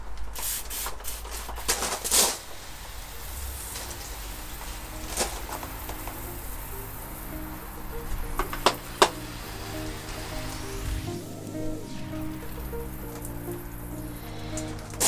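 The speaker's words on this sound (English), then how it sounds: "but we'll start off with our pressure sprayer" A pressure sprayer hisses in on-and-off bursts, spraying Autofinesse cleaner mist across a car's paintwork, with a low steady hum underneath.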